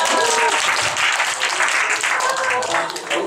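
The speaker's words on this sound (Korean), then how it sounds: "박수 한번 해주세요" An audience at a Korean lecture on leadership and emotion management applauds, a dense sustained clatter of many hands that fades slightly toward the end, with no one talking over it.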